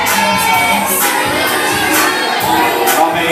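A group of children shouts together at a party game, loud overlapping cheering voices rising and falling in bursts, with no one speaking clearly on their own.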